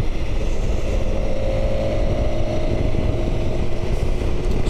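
A motorcycle rides out along a road at steady speed, giving a loud, continuous low engine drone with wind rush throughout, no voices.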